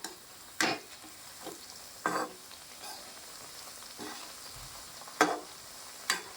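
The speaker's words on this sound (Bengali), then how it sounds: "এই চিড়ের পকোড়াগুলো ভাজতে কিন্তু বেশি সময় লাগে না" Flattened rice (chira) pakoras frying in oil, a soft continuous sizzle broken by several sharp stirring or scraping clacks at irregular intervals, fairly quiet and close.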